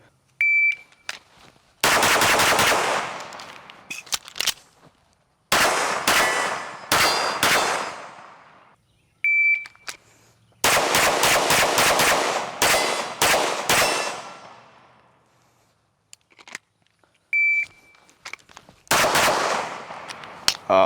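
Springfield Armory DS Prodigy Comp pistol fired in loud rapid strings of shots, several bursts with short pauses between them, close and sharp, with a few faint beeps in the gaps.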